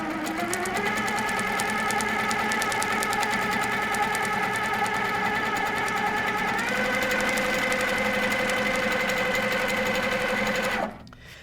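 A sewing machine stitches through painted fabric in a long, steady mechanical drone with a rapid needle rhythm, shifting pitch partway through before stopping abruptly near the end, close and loud.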